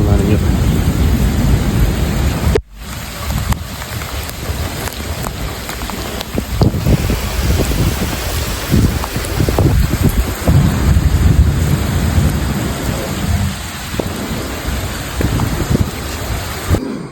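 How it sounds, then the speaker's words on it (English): Heavy rain pours steadily through a thunderstorm during a flash flood warning in Garland, Texas, a loud continuous wash with a brief drop near the start and faint rumbles of thunder underneath. "Flash flood warning is active until 11 a.m. with heavy rain and thunderstorms expected"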